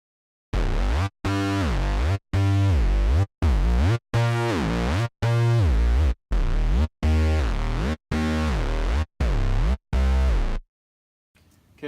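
First keyboard layer of an instrumental remake of a pop song: a loud, distorted synth playing a repeating series of sustained notes with short gaps between them, each note pitch-bending down and back up, heard alone.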